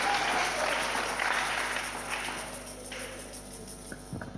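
A church congregation claps hands in praise during a sermon, a dense and loud burst of applause that slowly thins and fades, with a few scattered claps near the end.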